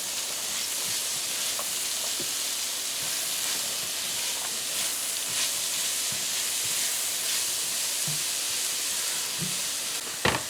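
Celery, scallions and pepper fry in a pan for five spice fried rice, giving a steady broadband sizzle with faint scattered clicks and a small bump near the end.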